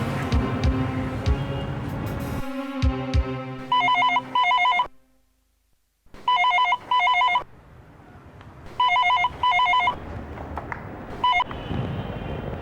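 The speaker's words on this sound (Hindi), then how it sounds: "गौरी का फोन है, शकील पकड़ा गया।" An old-style telephone bell rings in repeated double bursts, loud and clear, with short silences between the rings, inside a home in a Hindi TV drama.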